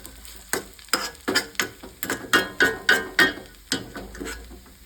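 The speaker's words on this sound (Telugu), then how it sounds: "పాలు ముద్దను దానిలో వేయాలి బాగా కలపాలి" A spoon stirs milk paste into a vegetable frankie filling in a pan, making a steady series of about a dozen rhythmic scraping, sizzling strokes up close, with no voices.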